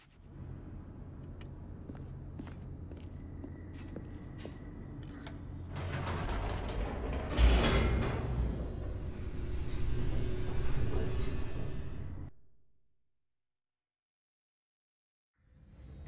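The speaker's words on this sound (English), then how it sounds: "The elevator raced downward, plummeting towards an unknown fate." An elevator descending in The Stanley Parable, with mechanical clanks and a rumbling, rising roar of movement that swells, holds, then stops abruptly into silence.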